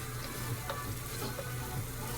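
Chicken taco filling with cream cheese, salsa and green chilies sizzling and frying in a pan while being stirred and worked around, a steady close crackle with soft scraping strokes and no talking.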